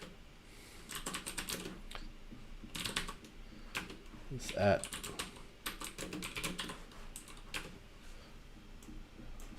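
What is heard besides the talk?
typing on a computer keyboard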